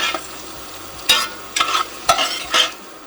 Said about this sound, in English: stir that in there, and let the mushrooms absorb that before I take them out of the pot